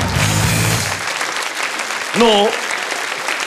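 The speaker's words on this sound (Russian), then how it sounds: "Ваши аплодисменты." Studio audience applause on a Russian-language comedy television show, dense clapping throughout, heaviest at the start, with a short spoken word over it.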